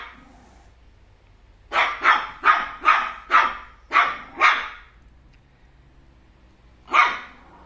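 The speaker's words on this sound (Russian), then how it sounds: "Они первый раз слышат, как она лает." A dog barks sharply seven times in a quick run, then falls quiet before one last bark; the barks are close and loud, with no voices.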